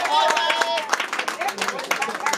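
Applause at an official wedding ceremony, with many hands clapping in a dense, steady patter close by, overlaid by a voice and crowd murmur throughout.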